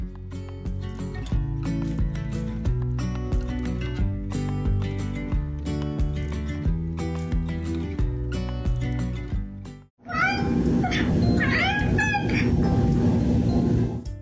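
An angry house cat left home alone meows and caterwauls loudly in a late burst of drawn-out cries, after a long stretch of steady music.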